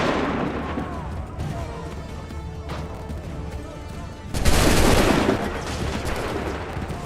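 A massed musket volley in Assassin's Creed III erupts loudly after a tense stretch of battlefield ambience and shouted orders, then rumbles on into lingering combat noise.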